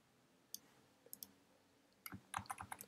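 Computer mouse clicks, faint and close, a few scattered single clicks and then a quicker cluster of several clicks over a quiet room background.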